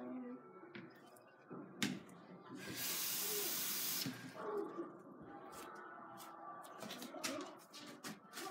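Tap water runs into cups to make Orbeez, a steady hissing stream lasting about a second, with clattering handling noises and small knocks before and after.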